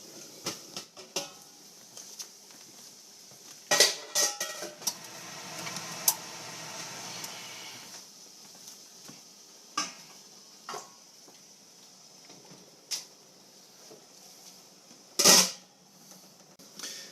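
Canning jars of homemade fermented sauerkraut lowered into a canning pot, giving a few faint glassy clinks and knocks, with one sharper clank near the end, over a quiet steady background hum.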